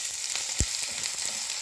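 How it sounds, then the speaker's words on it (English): Onions frying in oil in a pan for braised lamb mince, a steady soft sizzle throughout with one brief low thump partway through, no voices. "Now I'll put all my onions and all to fry."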